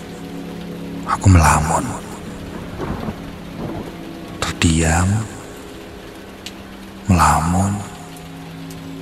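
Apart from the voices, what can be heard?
heavy rain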